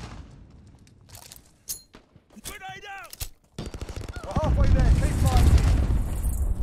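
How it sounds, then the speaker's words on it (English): Gunfire and a thrown grenade exploding in Call of Duty Modern Warfare, scattered shots and radio-style voices giving way to a loud, rumbling blast and chaotic battle noise. "Grenade out!"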